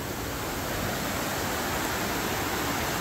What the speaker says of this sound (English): this is the river I was talking about. You hear this every second of the day.